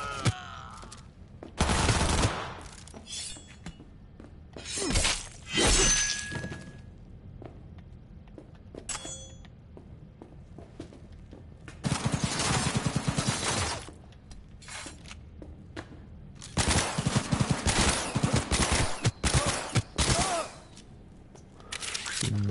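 Smart gun fire in the video game Cyberpunk 2077 comes in loud bursts of rapid shots separated by quieter stretches, with someone talking at times between the volleys.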